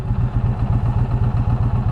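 A Challenger motorcycle with slip-on exhausts idles up close, its engine giving a loud, steady, lumpy rhythmic thumping pulse.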